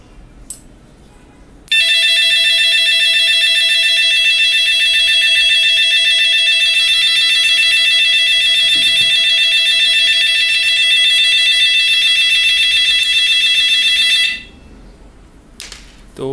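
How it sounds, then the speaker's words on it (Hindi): A W1209 thermostat's low-temperature alarm sounds as a loud, continuous high-pitched electronic buzzer that switches on abruptly, holds steady for about twelve seconds, then cuts off. "जो टेम्परेचर गिरते के साथ ही ये टर्न ऑन कर देगा अलार्म को"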